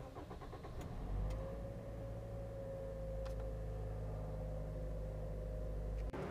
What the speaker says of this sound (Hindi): ये इस गाड़ी का स्टार्टअप,